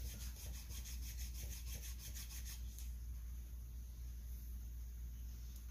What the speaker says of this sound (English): while I'm trying to hit it with the file and the stone